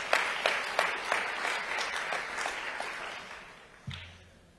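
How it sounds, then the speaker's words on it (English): An audience at a memorial service for Zahara claps steadily, a soft scattered applause with a few sharper claps, fading slightly before a short low thump near the end. "We can clap for Zahara"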